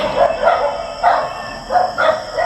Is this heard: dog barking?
yes